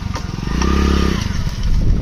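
A small motorbike engine runs close by on the way to a farm well where a tractor won't start, its rough, steady idle pulsing throughout and swelling slightly louder toward the end, with no talk over it.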